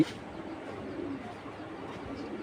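Racing pigeons of a Jan Aarden line coo softly in a loft, a low steady murmur of several birds running throughout without a break.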